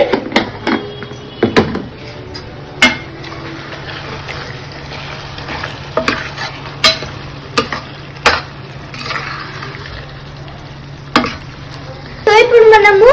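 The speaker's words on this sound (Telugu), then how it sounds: "ఇవి అన్నీ వేసుకున్న తర్వాత బాగా కలపాలి." Spices being stirred into prawn pulav in a pan, with scattered close scrapes and knocks of a spoon against the pan over a low background hum, ending in a louder clatter.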